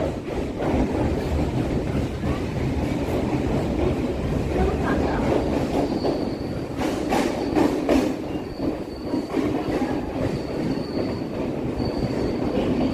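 A train pulls into Kolkata station, a loud, steady rumble of rolling wagons with metallic wheel squeal running throughout, up close and without talk.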